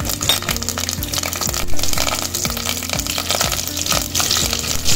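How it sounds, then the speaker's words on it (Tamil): Curry leaves frying in a pan of hot oil for a tomato gravy, giving a steady, loud crackling sizzle throughout with a few sharp pops, under a background of rhythmic music. "இப்போ வந்து நம்ம இந்த கருவேப்பிலை சேர்த்துப்போம்"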